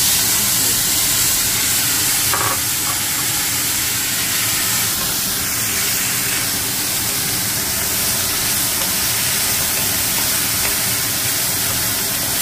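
Bitter gourd and eggplant frying in hot oil, giving a constant loud, close hiss and crackle of sizzling that stays even from start to finish without any talk.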